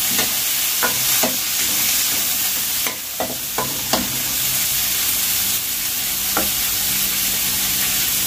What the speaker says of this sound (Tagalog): I-prito natin yung kamatis